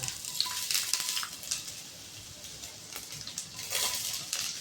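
Onion frying in a small amount of oil gives a moderate, close sizzle with soft crackles and occasional stirring scrapes, fairly even throughout.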